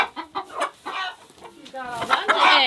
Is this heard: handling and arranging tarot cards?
no